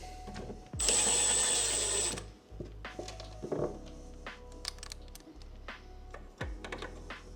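A power drill or driver runs steadily for over a second while driving screws during a piano repair, followed by scattered knocks, clicks and handling noises close by.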